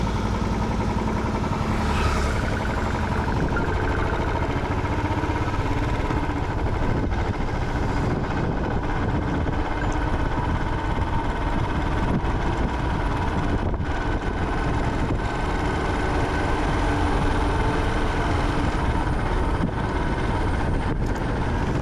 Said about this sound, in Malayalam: അപ്പോൾ നമുക്കിതിലൊരു എൻജിൻ ബ്രേക്കിംഗ് നോക്കാം കേട്ടോ